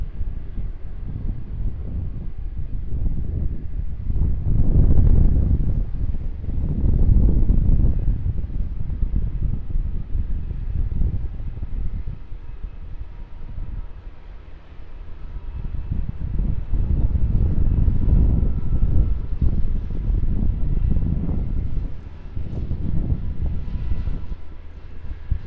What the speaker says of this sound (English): So, Qantas Boeing 737. Readying for takeoff